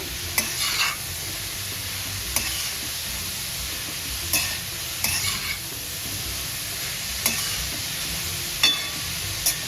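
Grated carrots frying in ghee for gajar halwa, a steady close sizzle broken by regular spatula stirs scraping through the pan, with no talk.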